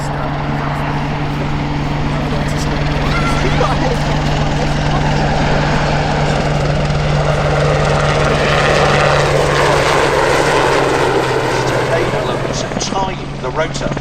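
Military aircraft engine droning steadily and loudly overhead at a family air show at Shuttleworth, a continuous propeller and rotor hum that swells slightly and holds for the whole stretch.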